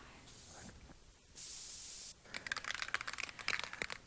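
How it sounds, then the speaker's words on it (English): Aerosol can of lacquer (red mahogany toner) in a furniture finishing shop: brief hissing spray bursts, a longer steady spray, then rapid rattling of the can being shaken, close and fairly quiet. "Shaking up the lacquer to give it a nice spray gloss."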